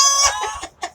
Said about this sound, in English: They will alert the females if they see a hawk or a bird.